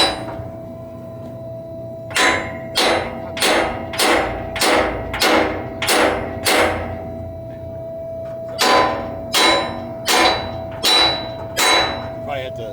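Hammer striking a pin into a hole, a run of sharp metallic blows in a steady rhythm, then a short pause before another quick series, close and loud over a constant low hum.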